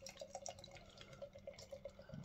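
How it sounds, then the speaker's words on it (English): Treason West Coast IPA is poured into a glass, faint liquid trickling and dripping with small irregular splashes, quiet and close, with no talking over it. "So give it a pour."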